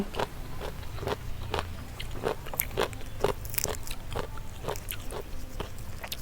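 Close, crisp crunching as someone eats spicy green papaya salad topped with small shrimp. Bites and chews repeat in a steady rhythm against a quiet background.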